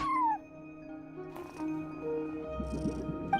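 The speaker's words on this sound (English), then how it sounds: "No one except for a cat watching over the front desk." A cat meows inside the video game Genshin Impact, a couple of short, clear mews standing alone over quiet game ambience and soft background music.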